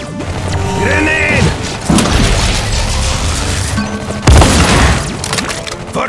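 Grenade blasts in the Iron Marines video game, two heavy booming crashes about two seconds apart, loud and close, amid clattering battle effects and game voices.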